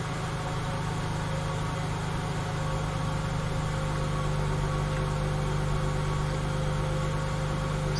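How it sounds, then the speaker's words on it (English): A 2000 Acura 3.2 TL engine idles during a fuel pressure test, giving a steady low hum and drone with constant vibration, unchanging and fairly near for the whole stretch, with no voices. "Engine idling."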